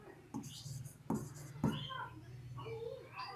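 A pen or pencil scratches across paper in several short strokes, close and fairly quiet, with soft hand movements and a voice speaking faintly in the background.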